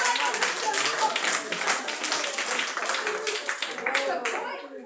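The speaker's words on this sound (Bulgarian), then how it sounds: "Аплодисменти!" An audience claps in a loose, uneven patter at a live comedy or stage show, moderately loud and sustained for several seconds, with some voices mixed in.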